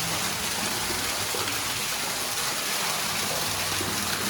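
Water gushing out of a farm irrigation pipe under air pressure, a steady loud broadband rush with low gurgling underneath, close by and unbroken, with no voices.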